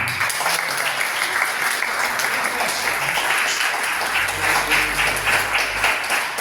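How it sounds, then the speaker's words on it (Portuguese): An evangelical church congregation applauds during a night service, loud dense clapping and crowd noise filling the room steadily, with a low organ or keyboard tone swelling underneath toward the end. "Você que crê no novo de Deus, aplaude a Ele."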